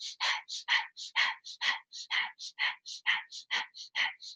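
Rapid, rhythmic Breath of Fire breathing from Kundalini Yoga, a fast even train of short forceful nasal exhales, about four per second, close and steady.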